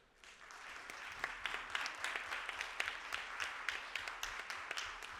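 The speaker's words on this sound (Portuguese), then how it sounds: "pedir a vocês uma salva de palmas, todos que estão aqui" Audience applause at a parliamentary event on rare diseases, a steady mass of clapping with sharper individual claps standing out, moderately loud and continuous throughout with no talk over it.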